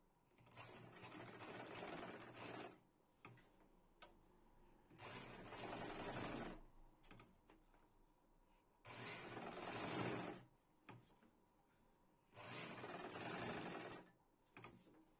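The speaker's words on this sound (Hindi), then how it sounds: "अब हम इसे ऐसे रख के सिलाई लगाएंगे।" Sewing machine stitching elastic onto palazzo pants, running in four distinct loud bursts of steady mechanical whirring separated by quiet pauses, close by with no talk.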